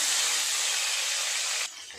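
Tomato slices sizzle in hot oil with a steady, loud broadband hiss that drops off sharply near the end.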